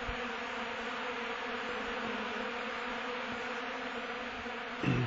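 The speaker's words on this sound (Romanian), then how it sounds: "Se observă cum albinele îl adună dinspre exterior către interiorul năzii." Honeybees in March crowd a hive lid to collect powdered milk, giving a steady, dense buzzing drone throughout, close and continuous, with a brief louder rustle near the end.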